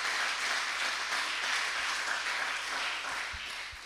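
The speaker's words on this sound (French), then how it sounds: "Si on a compris, on acclame le Seigneur." A church congregation applauds in a steady, dense wash of clapping that fades slightly toward the end.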